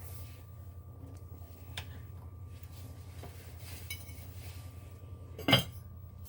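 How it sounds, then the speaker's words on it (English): A lid goes onto a pot of simmering lima beans with one sharp metallic clink near the end. A low hum runs underneath, along with a few faint kitchen taps, and no voices. "So now I'm going to cover and turn the heat down to simmer."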